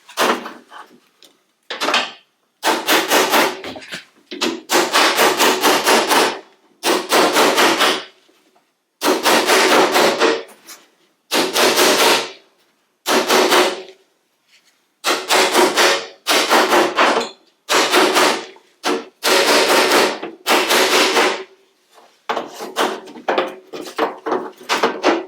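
Hammer blows on a steel car door skin over a dolly while reskinning a Triumph Herald 13/60 door, loud close metallic bursts of rapid strikes in repeated runs separated by short pauses.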